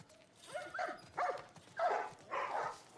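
Dogs in The Last of Us Part I bark in four separate bursts of yips and woofs, moderately distant and fairly quiet, with gaps between them.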